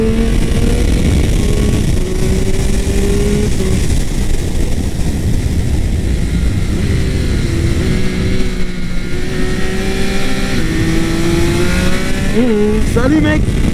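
Triumph Speed Triple 1200 RS motorcycle on the road, engine droning loud and close under heavy wind rush, with pitch rising and falling through gear changes and a sharp rev near the end; a rider speaks over it.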